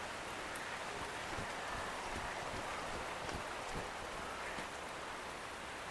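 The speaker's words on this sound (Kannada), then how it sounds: "ಈಗಲೂ ಮಳೆ ಎಷ್ಟು ಬರ್ತಾಯಿತ್ತು ನೋಡಿ" Heavy rain pours outside a resort in Goa, a dense, even wash of falling water with faint scattered drop impacts, moderately quiet and without any talking.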